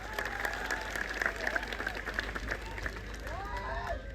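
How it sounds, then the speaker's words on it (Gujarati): Crowd clapping at an Aam Aadmi Party rally in Rajpipla, a steady rattle of many hands heard at moderate distance, with voices and cheering mixed in. "બધા માટે એકવાર જોરદાર તાળીઓ પાડી લો"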